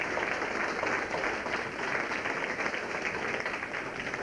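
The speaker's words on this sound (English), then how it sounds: "give us a round of applause for our Sandra" A room full of people at a night out give a round of applause, steady dense clapping that continues evenly for a few seconds without any speech over it.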